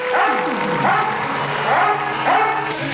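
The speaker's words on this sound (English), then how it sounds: "I'll set this dog loose on you, and the Doberman is trained to kill" A Doberman barks loudly and close, four rhythmic yelping bow-wows with a whining edge, evenly spaced and standing alone in a dramatic indoor scene.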